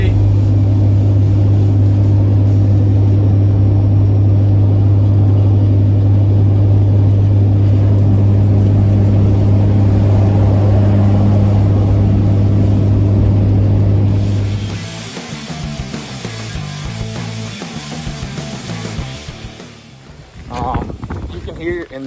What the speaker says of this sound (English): I'm actually riding down the road, just picked it up from the shop, and yeah, the tailpipe fell off